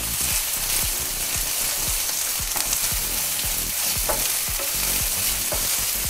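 Ginger garlic paste and green chillies fry loudly in a pan for paneer pepper masala, a vigorous close crackling sizzle punctuated by rhythmic stirring scrapes.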